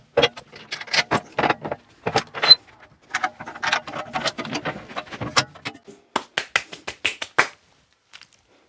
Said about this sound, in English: I've got a swivel headed lathe. So what I'm going to do is I'm going to quickly spin the head round so I can access the motor